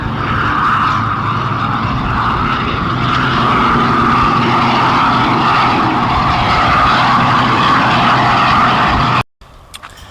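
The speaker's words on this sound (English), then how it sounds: "today they are actually having here a lobster boat race" A loud, steady engine roar with a broad rumble holds for about nine seconds as lobster boats race by close during a lobster boat race at Stonington, Maine, then cuts off abruptly.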